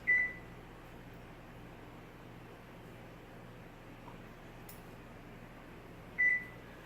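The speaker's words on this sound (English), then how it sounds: "And I'm going to set my timer for 45 minutes." Kitchen timer being set while baking BBQ chicken: a short electronic beep at the start and another several seconds later, quiet, over a steady low hum.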